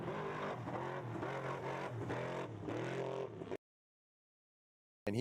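An engine roars loudly from a competing truck at a river racing event, revving and surging for several seconds before the sound cuts out suddenly, followed by a short silence.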